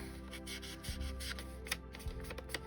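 Paper in a handmade bird journal is scuffed up by hand, giving soft, close rubbing and scratching strokes in quick irregular bursts, quiet and alone.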